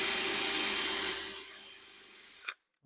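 A power drill whines steadily while boring cabinet hinge holes in a joinery workshop, the motor loud at first, then fading as it winds down and stops, with a light clunk afterward.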